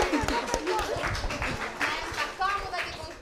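An audience at a Premio Strega 2023 literary event applauds to welcome a guest who arrives late, giving a dense, steady patter of clapping over a few seconds, with voices mixed in.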